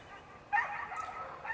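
Dogs bark in a yard, a short faint burst of barking and yips from a pack of five dogs after a quiet moment.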